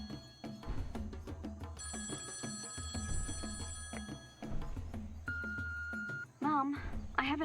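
In the game Being a Cat, a phone rings with a steady repeating electronic tone over busy game music and sound effects, while a player chats along.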